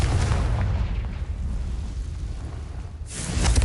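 A Confringo spell blast in Hogwarts Legacy erupts as a heavy, rumbling explosion that fades into a lingering roar, followed by a fresh burst of crackling noise near the end, loud and close with no voices.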